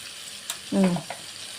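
Turmeric powder tipped into a hot pan of green chili paste for a vegetarian Malabar spinach dish, giving a short close sizzle with a soft stir and faint clicks in a quiet kitchen.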